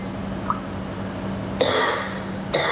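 A person nearby lets out two sharp, harsh coughs, separated by about a second, after a quiet stretch with a faint steady background hum.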